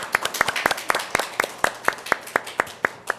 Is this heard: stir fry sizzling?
no